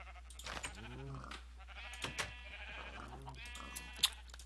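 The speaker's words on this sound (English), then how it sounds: "And I made a sheep, every color of sheep I have now." Sheep in the Minecraft FTB DireWolf modpack give several short, wavering bleats close by over a low steady hum, spaced a second or two apart.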